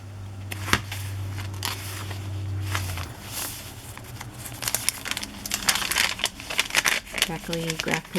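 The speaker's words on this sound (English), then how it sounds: "Crackly graph paper." Crackly graph paper being handled and crinkled, giving a continuous rustling with sharper crackles, close up, while a person talks and a low steady hum runs under the first few seconds.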